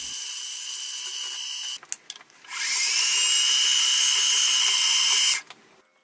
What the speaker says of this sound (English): I'll bore a hole for a shaft and then drill and tap it for a grub screw.